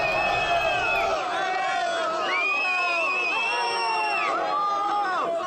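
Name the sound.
São Paulo fans in Morumbis stadium before Libertad match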